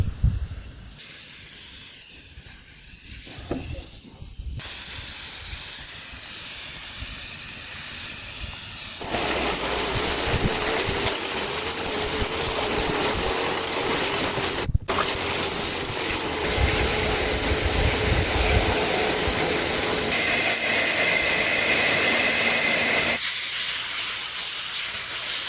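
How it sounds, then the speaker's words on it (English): Oven cleaner sprayed onto the greasy, grimy motor of a 1988 Kawasaki KLR650, a loud continuous close hiss of spray that keeps going with brief breaks and shifts, no talking. "Now we're going to use some oven clean to help degrease the motor and get all the grease and grime off of it"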